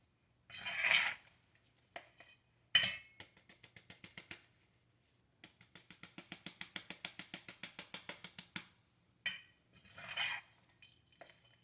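Pots handled during a ZZ Raven plant division, with sharp clanks and scrapes followed by a long rapid series of light rhythmic clinks and rattles, close and fairly quiet with no speech.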